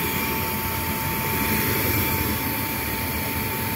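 A Lennox gas furnace runs with a steady whine over a constant whooshing roar. The tone holds unchanged the whole time and sounds close up.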